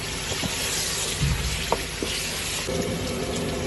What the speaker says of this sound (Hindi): इसी में इसको तल लेंगे हम बीच में